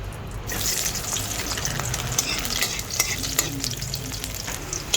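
Garlic fries and sizzles in hot cooking oil, a close, steady crackling hiss with occasional sharper pops and some stirring.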